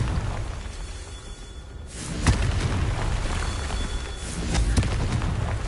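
A Confringo blasting-spell explosion in Hogwarts Legacy, a sharp burst followed by rumbling blast noise and a second crackling impact, loud and close, with no speech.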